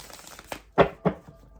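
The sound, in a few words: shuffling tarot cards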